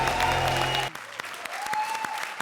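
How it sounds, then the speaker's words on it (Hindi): An Indian TV comedy show audience applauds at the close of a game-show sketch. A burst of music cuts off, then scattered, fairly sparse claps follow at moderate volume. "जोरदार तालियां।"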